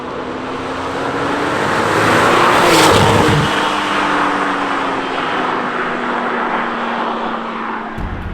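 A Porsche 997 GT2 passes close by with a rising then fading engine drone and steady tire roar on pavement louder than the engine, loudest midway, continuous throughout.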